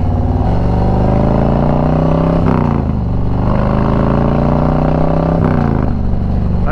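Motorcycle cruising on a highway, steady loud engine drone with harmonic whine and two brief dips in pitch as the rider shifts gears, carried under continuous wind rush.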